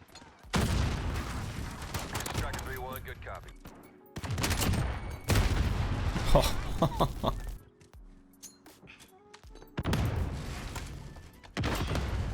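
Bursts of explosions and gunfire in Call of Duty: Modern Warfare, including a frag grenade going off, arrive as loud blasts separated by short lulls, with a voice speaking now and then.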